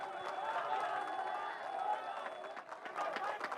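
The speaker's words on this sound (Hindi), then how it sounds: "आपकी इस खूबसूरत बातचीत पर क्रांति सेना ने ताली बजाई है" Applause from the Kranti Sena group in the audience at a Samajik Mahapanchayat televised debate in Chhattisgarh, a dense, steady wash of many hands clapping with crowd noise, sustained throughout at moderate loudness.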